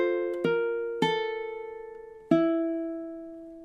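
Ukulele playing measure 18 of a song, four clean plucked chords, each ringing out and decaying before the next, close and moderately soft with no voice.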